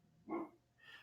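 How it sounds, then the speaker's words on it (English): A 90-pound Labrador named Avery gives a single short bark in the background, faint and distant, followed by a softer trailing whine or yip. "I don't know if you can hear the dog barking in the background."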